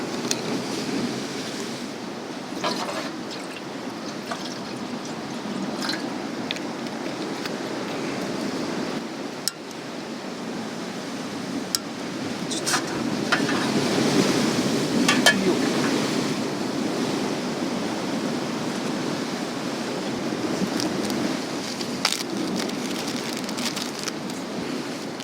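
Strong westerly wind buffets the microphone at a rocky seaside fishing spot on a spring-tide day, mixing with steady rough surf and swell; a continuous broadband roar that swells and gusts throughout, with no talking.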